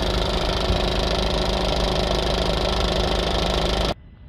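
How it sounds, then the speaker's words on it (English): A Ford Transit Connect engine idles close by with a steady, loud mechanical drone that cuts off abruptly near the end. "we'll get the rest of the fluid in with the engine running."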